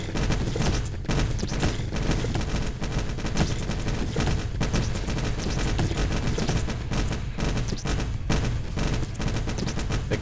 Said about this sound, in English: The Gatling guns are just ripping and dipping.